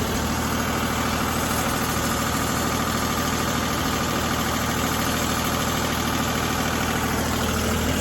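John Deere loader tractor engine idling steadily while warming up, a low, even diesel drone with slight vibration, close and constant with no talk.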